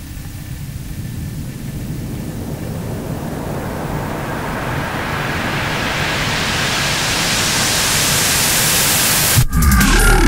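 A dubstep drop built from samples and shaped with a parametric EQ, a dense noise wash whose filter sweeps steadily upward over several seconds before a sudden cut and a heavy low hit at the end.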